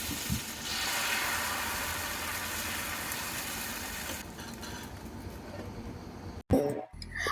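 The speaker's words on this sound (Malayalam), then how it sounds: "നമ്മുടെ ചട്ടി ചൂടായി വന്നിരിക്കണം അപ്പം ഇനി നമുക്ക് അപ്പം ചുട്ടെടുക്കാം" A soft, steady sizzle from appam cooking on a hot pan fades after a few seconds, followed by a brief clatter near the end.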